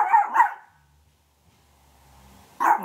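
A dog barks at someone working on the front door: two quick, loud barks, a stretch of near silence, then another loud bark.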